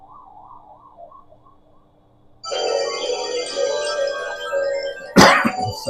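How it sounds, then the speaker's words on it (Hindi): A soft warbling tone gives way to several phones ringing at once, overlapping electronic tones, ending with a sharp clatter. "सबके फोन बजे।"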